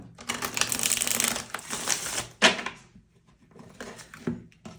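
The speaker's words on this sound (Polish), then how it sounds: "Oj, tu się rozsypały karty" Tarot cards are drawn and spill out, giving a rapid, close fluttering riffle for about two seconds, then a sharp slap and a few softer shuffling rustles.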